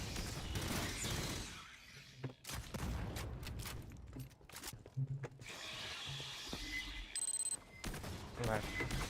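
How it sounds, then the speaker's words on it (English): Pulse rifle burst fire in a 4v4 video game, dense rapid volleys of shots filling most of the stretch with brief gaps, loud and close. "Oh, it sounds like pulse rifle,"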